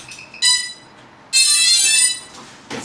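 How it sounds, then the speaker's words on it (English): Electronic tones from a DJI S800 hexacopter after its battery is connected: two loud, bright beep bursts, a short one then a longer sustained one, followed by a brief quieter tone at the end. "It's the nice beeping sound."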